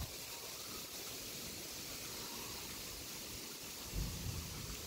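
Light rain falls steadily on a porch garden during a summer storm, a soft continuous hiss of sprinkling drops with a faint low rumble, growing slightly stronger near the end; no voices.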